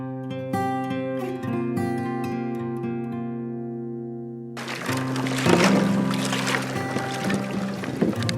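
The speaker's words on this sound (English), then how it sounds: "grab my kayak, drag it down here, and set in someplace for a minute" A kayak is dragged down to floodwater during a duck hunt: after several seconds of music, a loud, continuous scraping and rumbling drag takes over, close by and uneven, with no talking.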